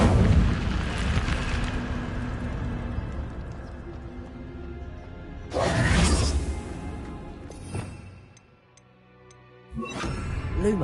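Incendio fire spell cast in Hogwarts Legacy: roaring whooshes and fiery bursts, one at the start, another around the middle and a short one near the end, with quieter crackle between.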